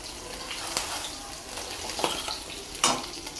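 Two or three pieces fry together in a pan, giving a close, continuous sizzle with a few soft bursts and clinks.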